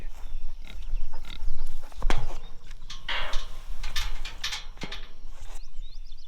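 Pigs grunt and snuffle several times at close range over a steady outdoor rumble, with a few sharp knocks and shuffling noises in between.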